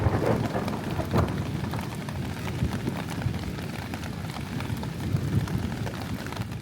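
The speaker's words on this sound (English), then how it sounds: "it started raining" Rain falls steadily around a backpacking campsite on the Appalachian Trail, a continuous soft hiss with occasional heavier patters and low rumbles.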